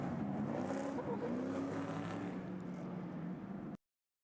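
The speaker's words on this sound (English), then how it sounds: "The thundering V8s come out here and put on a show." V8 race trucks roar at a Nashville race event, a loud, continuous, rising engine blare that ends abruptly, with no talk over it.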